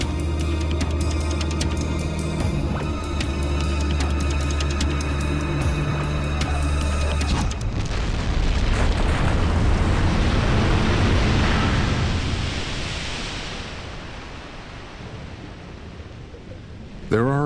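A submarine fires a torpedo, a sudden broad rushing roar that swells after a stretch of tonal music, holds loud for several seconds, then fades away.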